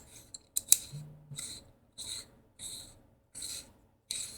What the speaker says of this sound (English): we'll unscrew this entire thing as one piece.